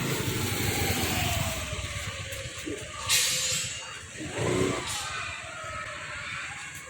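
A motorbike engine hums steadily as it rides along, with the pitch rising and falling gently and some wind rush.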